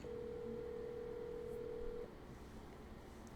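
An outgoing phone call tone sounds in the Spider-Man Miles Morales video game, one long steady beep holding for about two seconds over a low ambient hum, then cutting off.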